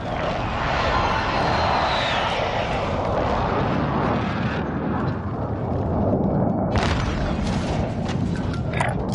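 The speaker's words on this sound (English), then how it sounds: "UAV entering the AO" A UAV drone in a military video game roars overhead as a loud, steady broadband engine rumble, surging and then thinning out before rising again with a burst of noise near the end.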